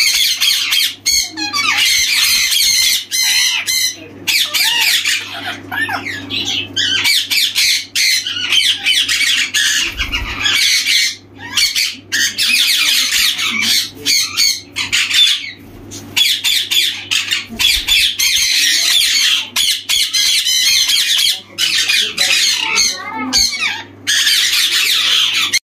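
Sun conure parrots squawk loudly and almost without pause at an outdoor Sunday bird market, their shrill harsh calls overlapping one another with brief gaps, while a faint low hum of the market runs underneath.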